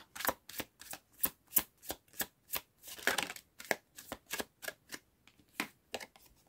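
Lenormand cards being shuffled by hand, a close series of crisp riffling bursts in an uneven but steady rhythm, with no talking.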